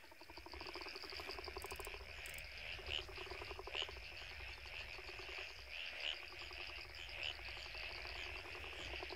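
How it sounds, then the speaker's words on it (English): Frogs call outdoors after rain. A dense, continuous chorus of rapid pulsing trills holds steady throughout at a moderate distance, with no talking over it. "I'm just going to be quiet for a moment so you can hear the frogs."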